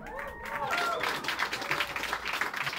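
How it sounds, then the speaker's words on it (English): Audience applause at a live concert in a Warsaw club, Klub Hydrozagadka, a dense burst of clapping from a crowd that holds steady throughout, with a voice briefly audible at the start. "Give it an applause."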